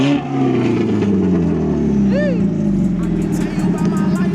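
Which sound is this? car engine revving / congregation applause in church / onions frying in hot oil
car engine revving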